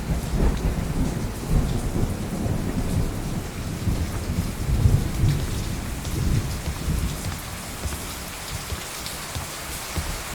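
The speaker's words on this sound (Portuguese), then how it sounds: "adicionei sons de chuva, brincando com os lados do fone de ouvido para dar uma imersividade a mais" Rain and thunder sound effects layered over a Lumion 3D render: heavy, steady rainfall with deep, rolling thunder rumbles building midway, loud and without speech.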